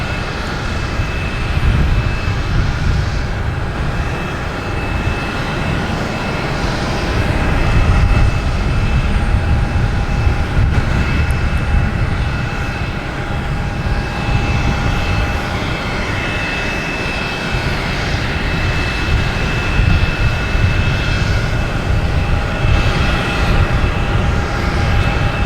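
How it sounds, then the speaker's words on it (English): An American Airlines Boeing 737 MAX 8 jet arrives at Boston Logan Airport, its engine rumble loud and sustained with a faint steady whine, swelling and easing slightly as it passes. "next to arrive, we have American Airlines 737 MAX 8"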